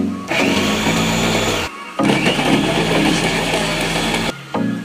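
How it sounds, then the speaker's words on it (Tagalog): A blender grinds garlic loudly in two long bursts, its motor whirring with a coarse, rattling churn, separated by a brief pause. "I-blender ko po yung bawang para mabino siya."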